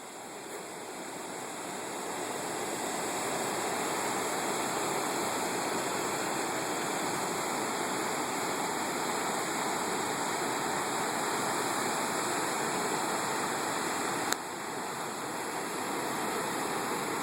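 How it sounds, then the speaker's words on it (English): Rushing rapids at Reversing Falls in Saint John, New Brunswick, where the incoming tide forces the river back, a steady broadband roar of turbulent water, continuous and unbroken throughout. "It's a nice view of the rapids water here."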